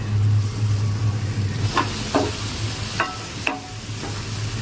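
Coarse coconut paste for a drumstick-leaf coconut curry frying in a pan, a steady low sizzle with a few sharp clicks of a spoon stirring, fairly quiet and close, no voices.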